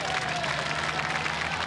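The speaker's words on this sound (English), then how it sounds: "And applause from the crowd then for Veeneendaal" Roadside spectators applaud a lead rider at the 1996 Amstel Gold cycling race, a steady wash of clapping and crowd noise throughout.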